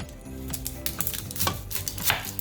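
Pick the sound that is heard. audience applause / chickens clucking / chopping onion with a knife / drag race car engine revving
chopping onion with a knife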